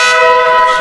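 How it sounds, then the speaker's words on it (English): A loud, sustained blast from a 2017 Ural motorcycle's air horn, with steady, bright harmonic tones, holding at full volume for the entire moment. "Well, that's the air horn."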